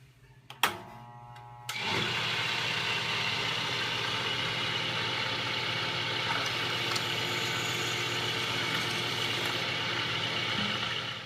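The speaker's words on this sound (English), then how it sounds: "we have a 1/2-inch ream bit set up to make an exact 1/2-inch hole in our bushing to accommodate the 1/2-inch shaft" A half-inch ream bit cuts a hole in a bushing for a Wurlitzer 24 Play jukebox mechanism: a few clicks, then a steady, loud whirring motor drone that holds evenly to the end.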